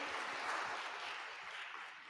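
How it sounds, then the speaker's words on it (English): Brief, soft round of audience applause at a community engagement forum, a faint, even spread of clapping with no voices. "Applause for Jonathan"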